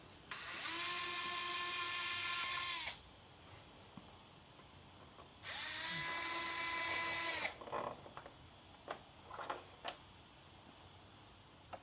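A power driver spins Torx screws out of the taillights on a Porsche 992 911 Targa in two sustained high-pitched whirring bursts of about two and a half seconds each, followed by scattered light clicks and taps.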